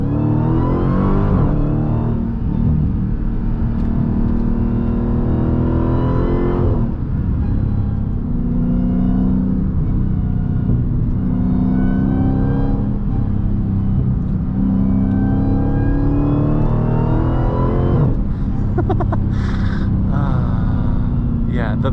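A Dodge Challenger SRT Demon on a track drive pulls out of corners with a loud, continuous engine roar whose pitch climbs and falls with throttle, rising strongly near the end, while someone talks over it throughout.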